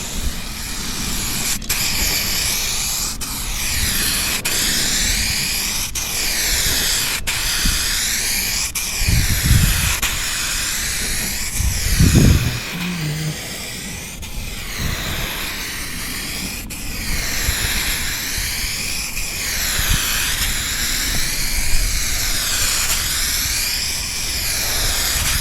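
A spray gun lays down a medium wet coat of Rust-Oleum silver metallic paint in overlapping passes, a steady loud hiss running throughout, with brief pauses and bursts as the gun moves between strokes.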